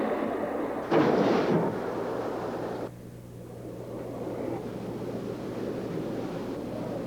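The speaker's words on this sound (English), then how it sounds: "get caught in a rainstorm. Hollywood style" Staged rainstorm effect on a 1986 Universal Studios tram tour: a sudden hissing burst of spray, then a steady rushing downpour with low mechanical hum beneath.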